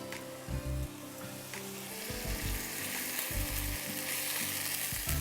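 Chicken pieces frying with whole lemongrass stalks and leaves for Indonesian chicken noodles, a steady close sizzle with occasional stirring thumps and scrapes, no talk.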